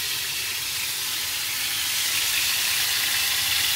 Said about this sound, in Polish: tam już cztery kotleciory się smażą